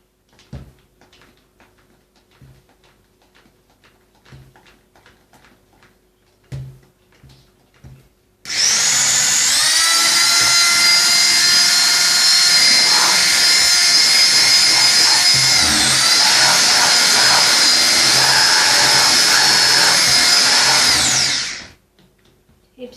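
An electric hand mixer whisks microwave micro cake batter made with flour and cocoa. After faint kitchen clatter, a loud, steady, high-pitched whir starts abruptly and runs unbroken for about thirteen seconds, then cuts off.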